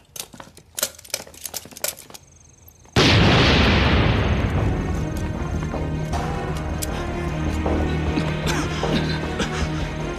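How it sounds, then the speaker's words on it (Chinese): A loud explosion erupts on a building's fourth floor in a wartime drama. Quiet, faint clicks and knocks suddenly give way to a booming blast that trails off into a long, roaring rumble of debris. "四楼爆炸了。"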